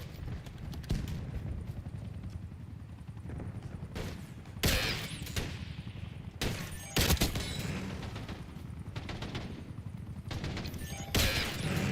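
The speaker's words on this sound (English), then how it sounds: "Where are these fucking shots going, man?" Bursts of gunfire ring out in a Call of Duty Black Ops 6 multiplayer match, several loud sharp shots and short volleys at uneven intervals over a constant low battlefield rumble, with no voices.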